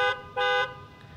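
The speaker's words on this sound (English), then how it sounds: "It just beeps the horn, flashes the lights," A 2017 Jeep Cherokee Latitude horn sounds from the remote panic button, two loud, close honks in a short pattern, the second longer than the first.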